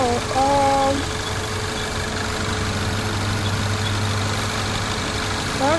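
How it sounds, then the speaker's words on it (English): A Peugeot 508 EP6/THP engine with grinding conrod bearings idles with a steady, low drone throughout, a constant rumble and hum, close and fairly loud, with no revving. "engine sound is okay now"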